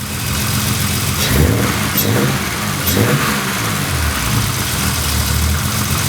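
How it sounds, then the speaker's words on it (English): A BMW 635csi engine runs loud and close just after starting, settling into a rough idle with several brief revs rising and falling over it and no talking. "Okay, car started just fine."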